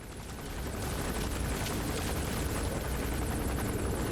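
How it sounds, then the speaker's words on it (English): A helicopter's thumping rotor roar fills the air as it lands in the video game Metal Gear Solid V: The Phantom Pain, steady and loud, a dense rumble that swells slightly at the start and holds. "There's a chopper landing."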